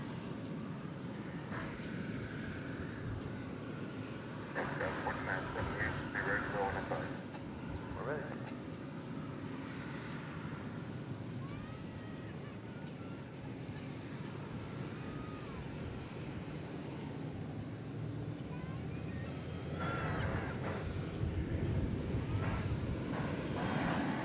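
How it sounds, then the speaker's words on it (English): An airplane comes in to land on a DFW Airport runway at night, its engine rumble a steady distant roar that swells in places, heard under a voice talking. "So there it is, landing"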